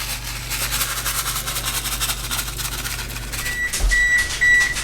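Oven beeps in a series of short tones as it finishes preheating to 325 for a 1968-style chicken-rice bake, ringing out over a steady engine-like kitchen hum.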